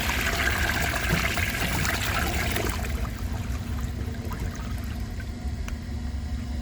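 A 1992 Peerless Hancock toilet with a 3.5-gallon tank and water-saving flapper flushes a grocery bag, a loud steady rush of water that eases into a quieter trickle as the bowl drains and refills, with no voices.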